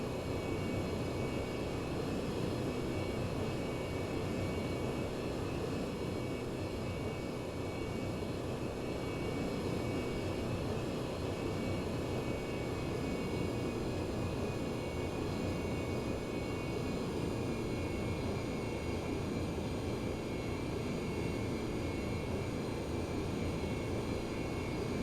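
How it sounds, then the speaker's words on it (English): F/A-18 jets in the IL-2 1946 flight game, heard as a steady roaring engine wash that holds for the whole stretch, broad and constant with no distinct pass peak and no talking. "There's the noise again. Oh, it's other F-18s flying by."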